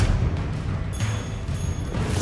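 In Hogwarts Legacy, a Confringo fire spell goes off with a loud, dense blast and roar that stays heavy and sustained. Several sharper cracks or bursts stand out within the rumble.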